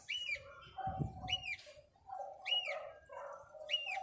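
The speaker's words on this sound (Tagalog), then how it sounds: "tumahol na yung aso" Distant dog barks repeat in a loose rhythm, mixed with bird calls and a closer brief thump, all fairly faint.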